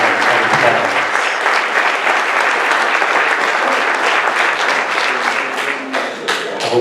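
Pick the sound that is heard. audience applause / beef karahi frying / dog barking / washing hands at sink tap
audience applause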